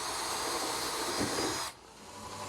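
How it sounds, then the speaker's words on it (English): A router bit makes a light cleaning pass through wood, giving a steady, loud hissing whine with a rougher moment midway before the cutting noise drops away suddenly. "raise the bit just a fraction and make a cleaning pass"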